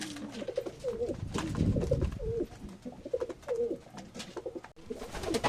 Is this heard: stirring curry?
no